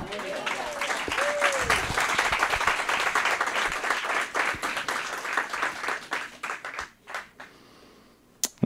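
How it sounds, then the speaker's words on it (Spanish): A church congregation claps together for Yeshua, dense applause that holds steady for several seconds before thinning into scattered claps and fading out, with a voice briefly heard over it. "¿Cuántos le dan un aplauso a Yeshua?"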